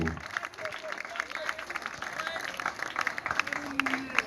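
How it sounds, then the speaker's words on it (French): Applause and acclamation from an audience at a community talk in Owendo, Gabon: continuous clapping from a sizeable crowd with scattered cheers and voices over it, moderately loud throughout. "Sur vos acclamations, Privat Ngomo."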